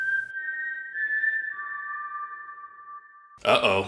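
A man whistling outside, a thin sustained tone that holds steady and then steps down to a lower pitch, fairly faint, followed by a sudden loud burst of noise at the end.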